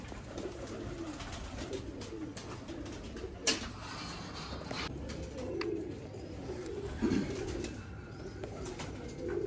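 A Teddy pigeon, an older bird kept by a pigeon fancier, coos softly amid a background hum, with a few low murmuring calls and occasional sharp clicks, fairly faint and without speech.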